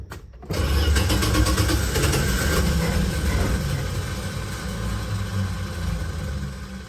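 A 1987 Dodge Ram B150 shorty van's slant six with a Holley 1920 carburetor, no lean burn system, catches after a brief quiet start and settles into a steady, loud, continuous idle throughout.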